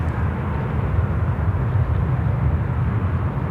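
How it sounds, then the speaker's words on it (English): Steady roar of a Delta Airbus A350-900 on its takeoff roll from runway 34 left at Sydney Airport, a continuous heavy low rumble heard from a distance, with no voices. "Delta now rolling runway 34 left, and they're departing back now to Los Angeles. A350-9er."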